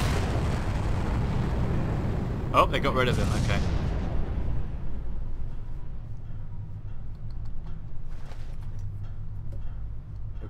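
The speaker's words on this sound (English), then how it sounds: "Don't know if you can hear me with all the explosions" Explosions rumble and boom in the Far Cry shooter game, a heavy low roar through the first few seconds with a sharp blast near the middle that fades into a lower drone, while someone talks over the action.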